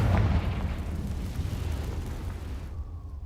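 A Confringo spell explodes in the video game Hogwarts Legacy, a loud deep boom with a rumbling tail that fades over a few seconds before cutting to quiet, with no talk.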